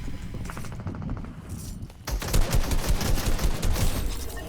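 Rapid bursts of gunfire in Fortnite crackle, first lighter and distant, then a louder sustained volley of overlapping shots from about halfway on.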